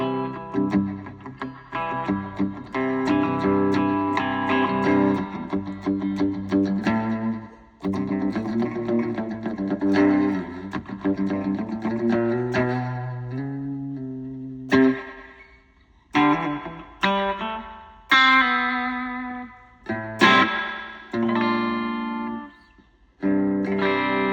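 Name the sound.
electric guitar with spring reverb twang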